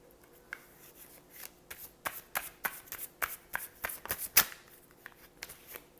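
Tarot cards shuffled by hand in a series of quick, crisp riffling bursts, close and fairly quiet, with no talking.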